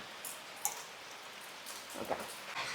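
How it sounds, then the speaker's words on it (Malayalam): Heavy rain pours down outside a roadside home as a soft, steady hiss, with a few sharper drop ticks scattered through it and no one speaking. "നല്ല ഒന്നാന്തരം മഴ പെയ്യുന്നുണ്ട് വെളിയിൽ"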